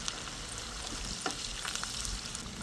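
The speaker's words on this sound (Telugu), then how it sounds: "ఈ ఆనియన్స్ వచ్చి గోల్డెన్ బ్రౌన్ కలర్ వరకు ఫ్రై చేసుకోవాలి" Sliced onions with curry leaves fry in a pan toward golden brown, giving a soft, steady sizzle with faint stirring scrapes.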